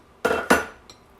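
A plate and cutlery handled on a kitchen counter: two sharp, close ceramic-and-metal clatters in quick succession, then a fainter third tap.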